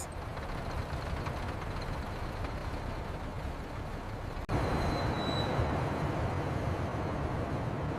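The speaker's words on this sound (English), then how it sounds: "I see the tram." A city tram approaches along its rails in bright, breezy weather: a steady broad rumble with a sharp click midway, then a faint thin wheel squeal over the continuing roar.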